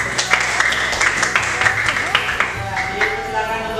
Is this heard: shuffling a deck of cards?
no